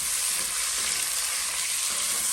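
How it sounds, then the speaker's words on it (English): Onions sauté in a pan as the base for a fish stew, a dense, even hiss of frying that stays loud and unbroken throughout, with no voices. "let that saute for 3 minutes"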